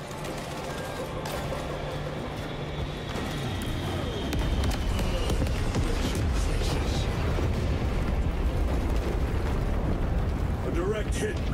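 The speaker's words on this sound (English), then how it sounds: "Airstrike incoming!" Airstrike explosions in Space Marine 2 roll in as a dense, continuous barrage of booms and rumbling blasts that swell louder partway through, with a voice speaking over the noise.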